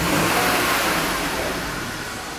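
A BMW 3 Series engine, under test for an intake camshaft position sensor fault, roars loudly and steadily, its revving easing off slightly toward the end.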